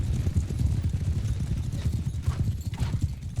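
Many horses galloping in a steady, dense drumming of hooves throughout a real-time strategy battle with mounted archers, close and continuous with no clear talk.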